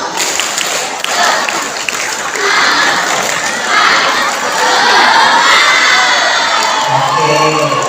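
Children in a religious classroom talk shout a rhythmic clapping chant together, a loud, lively crowd of young voices with clapping and cheering filling the whole clip.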